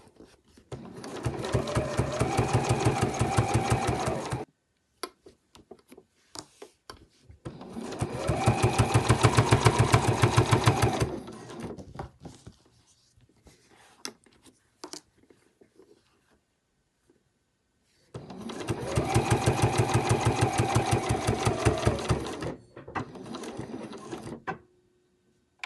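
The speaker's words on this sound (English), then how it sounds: "And I'll just stitch about 1/2 centimetre in from the edge just to hold that in place." A sewing machine stitches a fabric bow in three long, loud, rapid runs of mechanical clatter, separated by quiet pauses with small handling noises.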